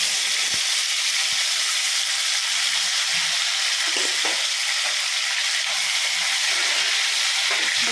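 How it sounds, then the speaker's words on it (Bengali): Bay leaf, whole spices, cashews and raisins frying in ghee in a hot pan for pulao, a loud continuous sizzle with occasional scraping stirs and soft knocks. "এটাকে হালকা ভেজে নেব।"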